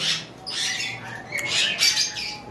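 Sun conure parrots from a breeding pair give loud, shrill squawks close by, several harsh bursts in quick succession.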